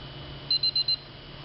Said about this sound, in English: As soon as this beeper goes off